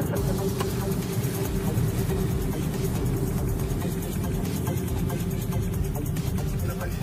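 A 2016 Honda Brio being driven, its engine giving a steady, muffled drone heard from inside the cabin, continuous and moderately loud with no clear changes in pitch.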